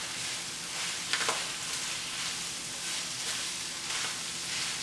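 Ground beef and onions sizzle in a pan for a beef noodle stir fry, an even hissing fry with a brief stir or clink just after the first second, steady and moderately loud without talk.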